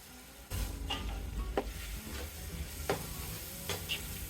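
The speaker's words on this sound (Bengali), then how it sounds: "গরম মশলা দিয়ে আমি আরও এক মিনিটের মতো ভেজে নেবো" Garam masala and ginger-garlic paste frying in a pan for chicken biryani, a steady close sizzle broken by several sharp spoon scrapes and stirring knocks against the pan.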